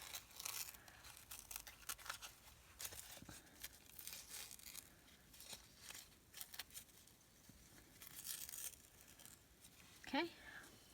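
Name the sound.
cutting and ripping napkin and notepaper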